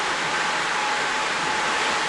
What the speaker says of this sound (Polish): Woda płynie.